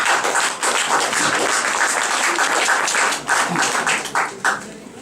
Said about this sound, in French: On peut applaudir ce monsieur qui aurait pu être là.